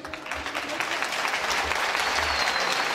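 An audience at a village association's evening gathering applauds, a thick, loud, sustained round of clapping from a crowded hall with low murmuring mixed underneath.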